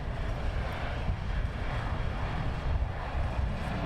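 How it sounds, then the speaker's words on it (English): An airliner landing at London Luton Airport: a steady, broad engine roar with rushing wind-like noise holds at an even level throughout, no voices. "Very nice landing."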